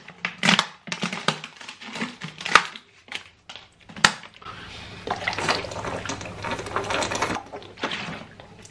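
Water poured from a bottle into a glass in a quiet room, a steady close gurgling stream lasting several seconds after a run of sharp clicks and handling knocks.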